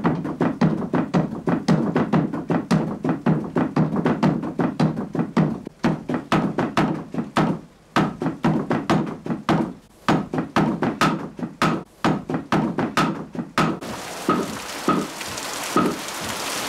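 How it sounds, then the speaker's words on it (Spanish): Heavy water-powered trip hammer blows, a 160 kg hammer forging red-hot iron, thud in a rapid, steady rhythm, dozens of strikes with short pauses, over a constant rushing background. "el hierro incandescente va adquiriendo la forma deseada con los golpes del martillo de 160"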